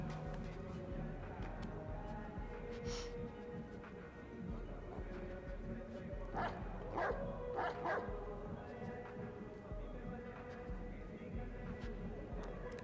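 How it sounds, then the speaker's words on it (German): A dog in the Watch Dogs 2 video game yips and barks a few times in short bursts, faint and somewhat distant under game ambience, with a person talking now and then. "Ist noch ein Hund."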